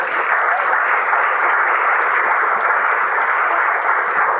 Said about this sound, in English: So we can give a round of applause.